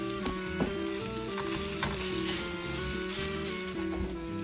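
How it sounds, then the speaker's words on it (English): Onions frying in a pan give a steady, close sizzle with crackling and occasional stirring, loud and continuous without speech. "When your onions start to brown, that's about when, you want to take them out"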